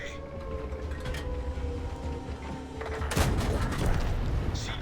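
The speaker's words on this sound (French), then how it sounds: "Qui me tire dessus?" Video game gunfire: a dense burst of shots and booms over a constant rumbling backdrop, with the firing swelling louder toward the end.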